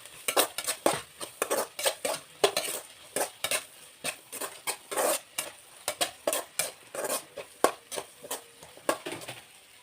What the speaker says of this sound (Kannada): ಈಗ ಎಲ್ಲ ಮಿಕ್ಸ್ ಮಾಡ್ಕೊತಾ ಇದ್ದೀನಿ.